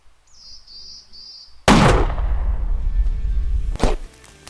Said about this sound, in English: And that was a perfect shot.